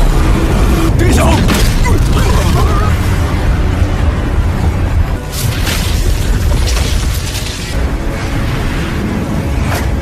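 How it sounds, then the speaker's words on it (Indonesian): A loud, rumbling animated explosion with a sustained roar and crackling debris, dense and close, filling the whole stretch without pause. "berada di dekat dari pertarungannya Lo Feng, mereka kaget dari ledakan tersebut"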